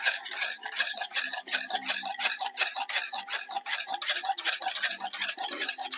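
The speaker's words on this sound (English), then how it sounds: "I'll just get a whisk." A wire whisk beats strained custard for a custard tart, making a quick, steady run of scraping, ticking strokes against the bowl. It is close and continuous, with no talking.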